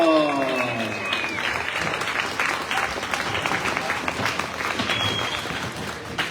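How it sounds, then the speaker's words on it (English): A crowd claps in sustained, close applause at a sheep shearing competition during the wool handling and open class finals, with a voice carrying over the clapping. "Let's give them all a big round of applause."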